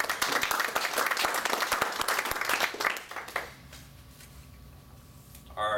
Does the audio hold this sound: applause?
yes